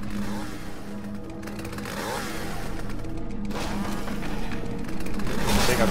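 A buzzing, revving chainsaw engine drones continuously, rising and falling in pitch, with faint game sound effects around it, in the Roblox horror game Traversal.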